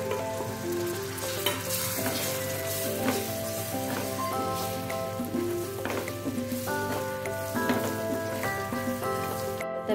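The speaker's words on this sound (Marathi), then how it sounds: "ह्याच्यामध्ये मी घालून घेते हे सुंगटा।" Shrimp sizzling steadily as they fry in a cooked spice masala in a pan for shrimp pickle, a continuous frying hiss with music playing throughout.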